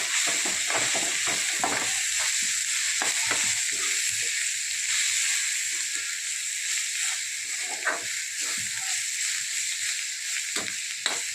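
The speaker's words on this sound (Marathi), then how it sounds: "कांदा लसूण मसाला आता याला छान परतून घेणार" Onion, garlic and masala with red chilli powder, coriander powder and turmeric sautéing in a pan for masoor dal, a steady hissing sizzle broken by repeated sharp spatula scrapes and taps.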